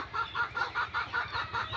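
Farm chickens clucking in a steady, rhythmic series of short calls, fairly faint and heard without any talking.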